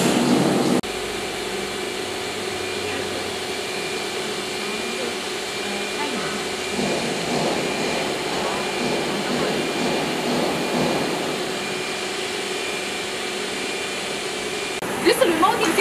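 Automatic flow-meter beverage mixer machine running in a plant, a continuous loud broadband whirring hum with a steady mechanical drone throughout, unbroken for the full length.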